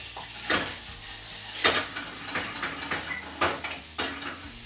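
Kale frying and being stirred in a pan, soft sizzling under repeated scraping strokes of a utensil, about five distinct stirs close up, no talking.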